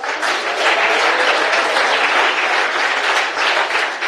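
A church congregation applauds during a sermon, a dense, steady wash of many hands clapping at full volume for about four seconds, with no speech over it.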